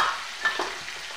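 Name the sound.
stirring chopped tomato and spices in a frying pan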